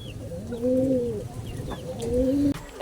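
Pigeons or doves in their coop give two drawn-out, low coos a second or so apart, close by over a steady background hum.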